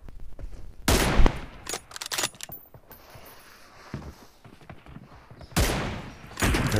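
Loud gunfire from an M24 sniper rifle in a shooting video game, with several sharp, booming shots spaced apart across the clip amid quieter in-game clatter.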